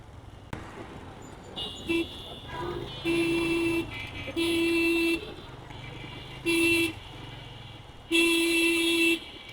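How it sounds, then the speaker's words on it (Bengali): Car and vehicle horns honking at a road underpass in Bangladesh, five or six separate blasts of a second or so each, close and loud over a background of traffic noise. "এই যে কতগুলো হর্ন দেওয়া হইতাছে"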